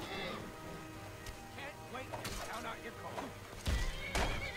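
Shadowmere the horse whinnying in a video game, repeated neighs and snorts mixed with hoof thuds, close and fairly loud amid game noise.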